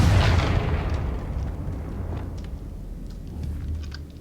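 The Confringo fire spell explodes in the Hogwarts Legacy video game, a loud, close boom that fades into a low rumbling tail over a few seconds.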